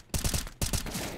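Rapid gunfire from Counter-Strike in two sharp, loud bursts of several shots each, separated by a brief gap, with no talking.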